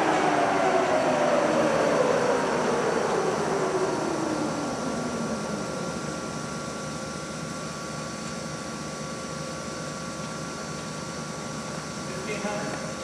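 A Monarch 25 x 48 toolroom lathe in excellent condition runs at 1500 RPM, a mechanical whine sliding downward in pitch before settling into a steady hum with a thin sustained tone.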